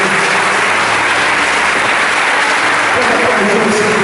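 Church congregation applauding, a loud continuous wash of clapping with a faint voice and low background murmur running underneath.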